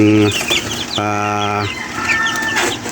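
Young chicks and hens in a Filipino hatchery setting, with a few bursts of clucking and cheeping calls spread across a short stretch, close by and fairly loud.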